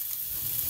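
Onions frying in a pan sprayed with olive oil, a soft steady sizzle close by with low bubbling underneath, brief and continuous with no talk.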